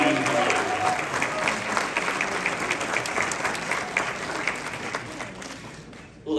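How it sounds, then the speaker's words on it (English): Audience applause at a Polish-American awards ceremony honoring the Person of the Year 2023: dense, sustained clapping from a large crowd lasting about six seconds, easing slightly before stopping abruptly. "Big round of applause for the whole Truman Catholic Union."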